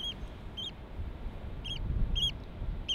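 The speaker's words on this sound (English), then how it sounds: "Can you hear the birds?" Birds call outdoors on the Isle of Skye: five short, bright chirps spaced irregularly over a steady wind-like rumble, moderately near and with no talking.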